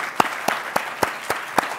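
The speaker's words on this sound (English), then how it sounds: "if you can just stand up for a second so people can applaud you" Applause at a policy event on testing and assessment, heard as evenly spaced, distinct claps repeating at a steady rhythm over a short stretch.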